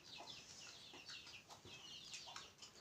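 Hen clucking repeatedly at a distance, soft, quick, uneven calls over a quiet rural background with no talk.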